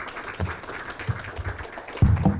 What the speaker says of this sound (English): let's have a round of applause for our panelists